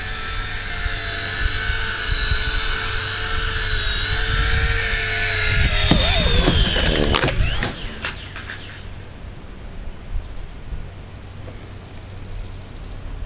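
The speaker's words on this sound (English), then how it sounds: "Hey, I see a heli." A small XK RC helicopter with an FPV mod whines loudly in a park, its high motor tones climbing and shifting as it maneuvers, then dropping away to quieter background after about eight seconds.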